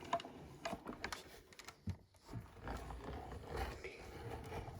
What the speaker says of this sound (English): we could have done a bit more stuff with the embossing machine or the cut and emboss machine